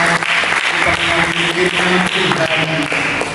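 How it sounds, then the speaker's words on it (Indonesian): Audience applause fills a church service, a steady loud wash of clapping throughout with voices or music tones mixed underneath. "Mari kita berikan tepuk tangan yang meriah"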